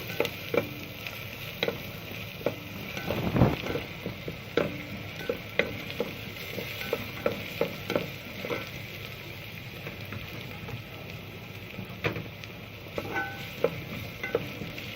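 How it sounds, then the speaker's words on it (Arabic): Onions frying in a pan as they are stirred toward a deep brown, constant crackling sizzle punctuated by frequent sharp pops and the scrape of a spoon, up close with no talking. "انا بفضل اقلب في البصل اهو لحد ما يديني اللون اللي هو يعني ما هو مش محروق، اللون اللي هو البني الغامق."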